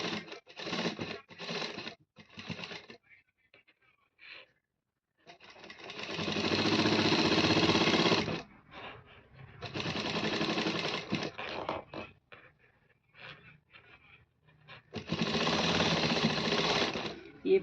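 A sewing machine stitches a pocket in bursts of fast, steady whirring and clatter, three main runs separated by pauses filled with short starts, handling noises and quiet moments.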